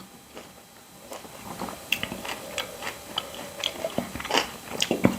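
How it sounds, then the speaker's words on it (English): Crunchy bread topped with brie being bitten and chewed up close, giving a series of crisp, irregular crunches that grow louder toward the end, with no talk. "I'm sure you all heard us crunch."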